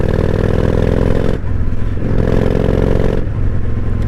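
A 1998 Honda Shadow 1100 cruiser motorcycle rides along loud and close, its engine dropping briefly twice as it downshifts through the gears and then pulling again, with wind rumble throughout.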